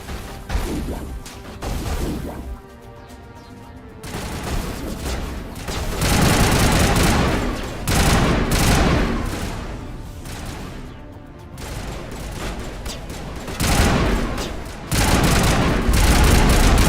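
Heavy, sustained gunfire with repeated loud volleys and crashing impacts rolling on for many seconds, close and dense with short dips between bursts.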